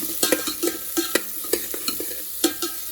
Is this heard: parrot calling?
no